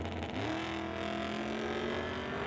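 Ford Maverick and Chevrolet Nova drag racing, a steady loud engine roar with rising revving tones as the cars launch and pull down the strip, continuous with no talk.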